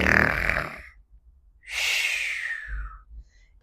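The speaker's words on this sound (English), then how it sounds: "He timed her snores." A cartoon dragon princess snores in a read-along fairy tale: two drawn-out snoring breaths, a rough rasping inhale followed by a louder, airy whooshing exhale, close and alone with no talk.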